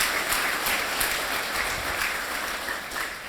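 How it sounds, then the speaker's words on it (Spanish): A church congregation applauds loudly and continuously, a dense wash of many hands clapping at once that stays steady for the whole stretch, with no talking over it. "Dale un aplauso al Señor, a Dios que conocía a Mateo."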